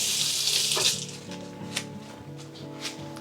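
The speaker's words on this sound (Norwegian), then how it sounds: "Skylle den kjapt bare." Tap water runs into a kitchen sink as a cucumber is quickly rinsed under it, a steady close hiss for the first second that then tapers off into quieter drips and handling noises.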